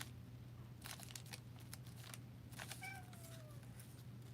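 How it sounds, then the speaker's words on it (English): A house cat meows faintly in the background, one drawn-out call standing out near the end over a low steady hum and light paper crinkling in a craft room. "I don't know what my cat is meowing about over here."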